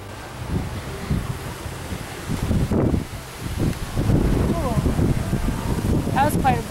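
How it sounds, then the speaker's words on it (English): Outdoors in a Japanese garden, gusts of strong wind rush and swell in uneven surges against the microphone, rising louder midway, while birds chirp faintly near the end. "That was quite a breeze. Yeah. Strong wind."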